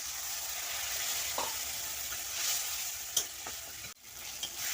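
Spiced masala of red dried chillies and tomato frying in a pan with a little water added, a soft steady sizzle with occasional stirring scrapes and one sharp knock, quiet and without talk.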